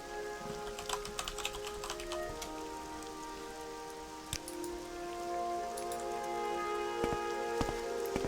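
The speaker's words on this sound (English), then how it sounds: "Oh, starting to rain." Rain falling in the video game Morrowind, a steady soft patter with scattered crisp droplet ticks throughout, fairly close and even in level, with no talking.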